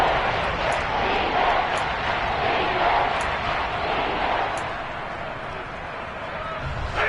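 A Seahawks stadium crowd in a football video game gives off a constant, dense roar. It fades slightly toward the end, and a commentator talks over it.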